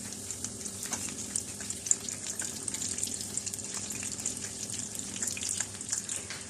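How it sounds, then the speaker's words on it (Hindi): Khajoori, a fried dough snack, crackles and sizzles in hot oil in a steady, dense fizz with scattered pops, continuous and fairly close. "खजूरी आहिस्ता आहिस्ता फ्राई होना शुरू हो गई हैं।"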